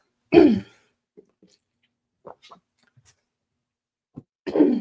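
Two sharp bursts of close throat clearing and coughing, one at the start and one at the end, with near silence between them.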